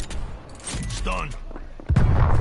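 A stun grenade goes off in Call of Duty Cold War, a brief burst with a ringing tone, then a heavy low boom near the end, heard among game effects and a voice.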